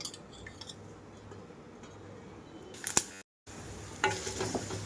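Tempering seeds fry in about two tablespoons of hot oil in a separate pan, a close, steady sizzle and crackle, with a few sharp clinks of a metal spoon against the pan and a brief pause partway through.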